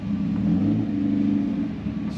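Mazda Miata at a car meet, a loud low engine rumble that swells and holds, close by with no one speaking.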